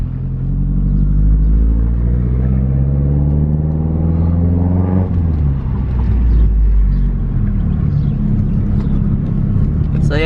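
A Mazdaspeed 3 cruising on the road, fitted with new EBC brake pads, gives a steady loud engine and road rumble throughout, with a slight shift in tone midway as the drive continues.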